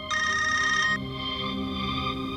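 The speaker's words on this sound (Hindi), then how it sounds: "अरे फोन जब बजता है ना तो बजे जाता" A telephone rings indoors with a bright electronic warbling tone that stops abruptly after about a second, leaving a low tonal hum behind.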